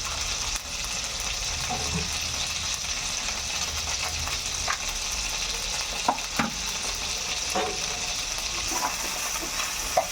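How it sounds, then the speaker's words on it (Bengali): A spice paste with turmeric and cumin powder fries in a pan for an egg curry, giving a continuous close sizzle and hiss with occasional scrapes and taps of stirring. "হলুদ গুঁড়ো আর জিরে গুঁড়ো আমি অ্যাড করে দিলাম দিয়ে এটাকে বেশ ভালো করে একটু কষিয়ে নেবো"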